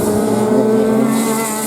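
Race cars blast around the track in a sumo class final, a loud, continuous, close engine roar with a steady high drone.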